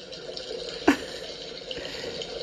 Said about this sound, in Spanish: miren este video del Pug que escucha el ruido del agua y piensa que está nadando